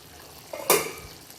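Tomato thokku is stirred once in a pan, a short scrape of the spoon through the thick mixture with a faint sizzle beneath, close and brief.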